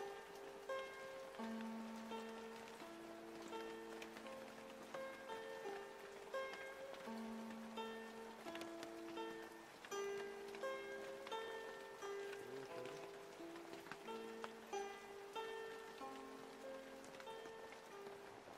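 Heavy rain pours steadily through dense forest, a continuous wet hiss and patter of drops on foliage that holds unbroken throughout, with sustained tonal notes running over it.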